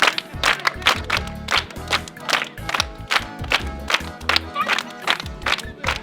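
Rhythmic group clapping from a crowd, sharp beats in a bouncy pattern for a comedic dance, with background music and shouted voices mixed in.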